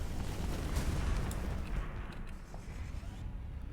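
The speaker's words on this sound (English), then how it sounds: "that's a lot of explosions" Space battle explosions in the Starsector video game with mods rumble as a dense, heavy low roar with scattered pops and bursts, loudest early and then slowly fading.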